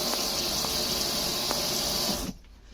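Water runs steadily from a kitchen tap and splashes into the sink, close and loud, then shuts off abruptly near the end, with no talking.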